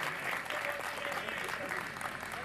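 An audience at a ghazal recital gives a sustained round of clapping, dense and steady throughout, moderately distant and filling the room.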